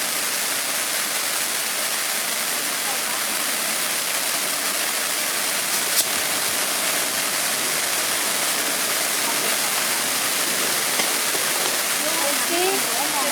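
A Ranta Secret Garden RT4014 firework fountain with a waterfall effect and colored smoke burns in a steady, dense hiss for a long stretch, with faint crackles scattered through it.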